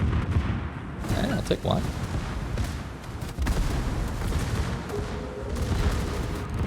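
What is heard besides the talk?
battleship gun turrets firing in World of Warships video game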